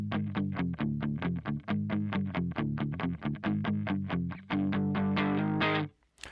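Distorted electric guitar with chorus, its low end cut and highs boosted by EQ, plays a steady run of chugging rhythmic chords for about six seconds, then cuts off abruptly.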